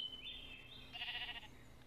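Sheep bleating in the Minecraft video game, a couple of short, clear electronic bleats in quick succession, close and alone with no talk.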